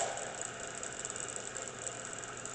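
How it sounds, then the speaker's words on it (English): Spindle of a KO Lee Model B 2060 universal tool and cutter grinder running forward, a steady mechanical hum with a loose washer rattling continuously inside, close and even throughout. "The only thing you hear rattling is the washer in there."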